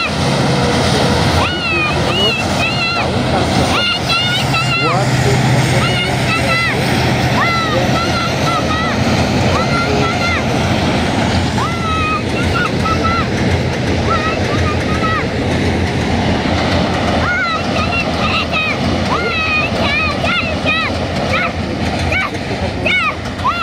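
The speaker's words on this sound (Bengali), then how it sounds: "ব্রিজের দিকে এগিয়ে আসছে শিয়ালদহ গামী ট্রেন।" An Indian Railways train bound for Sealdah rolls across a bridge, a steady, loud rumble running the whole time. Voices and other background sounds are mixed in with it.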